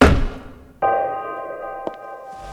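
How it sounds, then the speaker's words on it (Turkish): A rolling pin strikes a character's head in the horror video game Terroro: a sharp thunk at the start, then a sustained ringing metallic tone with a small ping near the end, loud and close, no speech. "Kafama merdaneyle vurdu."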